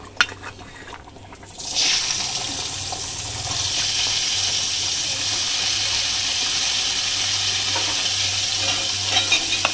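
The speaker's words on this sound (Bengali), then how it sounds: "এবার আমি এই গাজরগুলো ভেজে নেব।" A sudden loud sizzle as carrots hit a hot pan, then settling into a constant close frying hiss with faint crackles and stirring.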